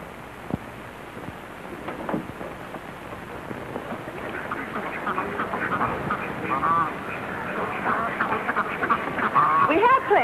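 Ducks quack in a noisy, crowded flurry that builds over several seconds, amid a rough, rumbling background from an old 1951 recording.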